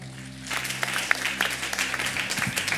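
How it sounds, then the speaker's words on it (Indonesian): A church congregation breaks into steady applause after a brief moment, many hands clapping together over a low hum. "Tepuk tangan buat Tuhan."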